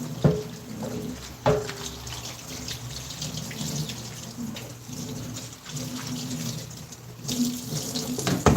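Water runs steadily from a kitchen tap while dishes are washed up, with irregular clinks and splashes of plates in the sink throughout, close and fairly loud.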